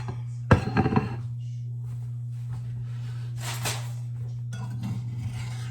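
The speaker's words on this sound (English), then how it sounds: "I know this is too hot to really be cutting and try to take out of the pan, but I'm gonna go ahead and attempt it" Hot pot roast with potatoes, carrots and Brussels sprouts is cut in a pan: a sharp clunk of utensils against the pan, a few metallic clinks and scrapes, then quieter scraping over a steady low hum.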